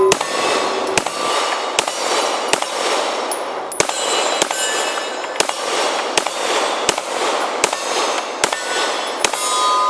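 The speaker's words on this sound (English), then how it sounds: "I just wanted to shoot the mags I have loaded, play with them a little bit here." Pistol gunshots from a 1911 fired close up, about eleven sharp loud cracks at a fairly even pace, each followed by a ringing metallic decay, no voices.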